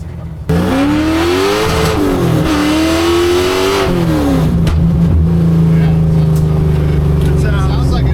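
A car fitted with a modern aftermarket exhaust revs loudly and close up, its pitch climbing and falling through several throttle blips before settling into a strong, steady drone, with people talking over it.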